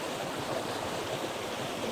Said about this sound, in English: one of the things that I hear is the rustling of the water